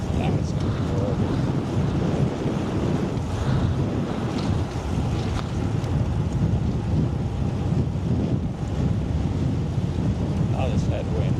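Strong headwind roaring and buffeting against the microphone while riding an e-bike, a continuous loud rumbling gust that masks everything else.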